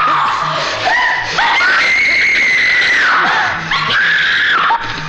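A woman screams loudly in a Hindi film scene at night in a village, a sustained high cry rising and falling over several seconds, with brief breaks and a faint voice underneath.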